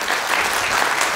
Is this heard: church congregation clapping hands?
yes